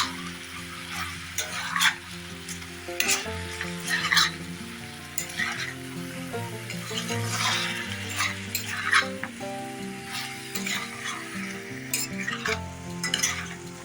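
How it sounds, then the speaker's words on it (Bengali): Chicken pieces sizzling and being stirred in a pan with ginger-garlic paste and ripe tomato, a steady close frying crackle broken by scraping spatula strokes and light clinks of utensils against the pot, with background music underneath. "টমাটো আর আদা রসুনটা দিয়ে পেস্ট কিছুক্ষণ ধরে আমি ভালোভাবে মাংসটা কষিয়ে নিয়েছি"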